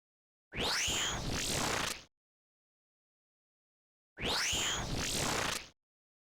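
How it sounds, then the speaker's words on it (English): A melee attack from the Nightmare boss in Old School RuneScape, played twice: two identical sweeping, rising-and-falling whooshes with a bright metallic ring, each about one and a half seconds long, separated by silence. "She uses a melee attack that looks and sounds like this."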